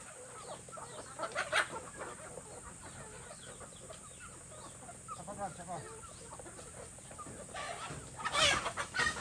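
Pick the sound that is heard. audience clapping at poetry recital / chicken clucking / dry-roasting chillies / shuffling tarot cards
chicken clucking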